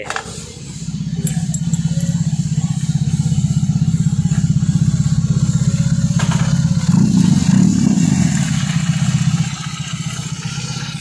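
BMW R18 First Edition motorcycle idling with aftermarket slip-on exhausts, a loud, steady, deep rumbling thump close by that swells briefly as the throttle is blipped, with no voices.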